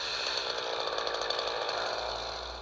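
A Husqvarna chainsaw makes the felling cut in a tree, its engine screaming at a steady high pitch under load, close and continuous before easing slightly at the end.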